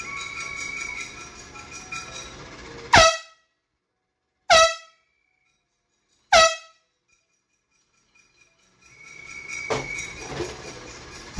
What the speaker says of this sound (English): I'm the air horn guy.